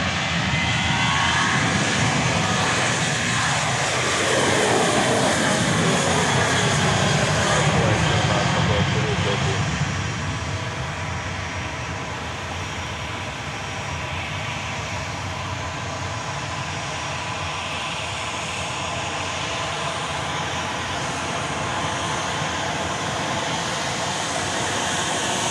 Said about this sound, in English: The plane you just saw taking off was going to San Antonio, Texas, flight 208, 737-700.